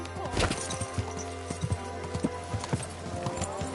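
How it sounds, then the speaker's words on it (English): Horse hooves clip-clop on the ground in the video game Kingdom Come: Deliverance 2, a run of irregular, moderately near hoofbeats over low background sound and faint voices. "Your horse nearly trampled me."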